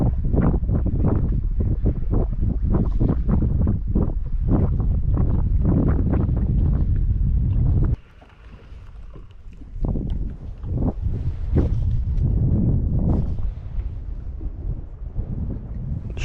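Strong wind buffets the microphone on a windy day at sea, a loud, continuous rumbling roar that drops off briefly halfway through and then returns in gusts.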